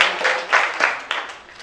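A small audience claps for a speaker at an additive manufacturing presentation, with a few loose, uneven bursts of hand claps that rise and fade rather than building into full applause.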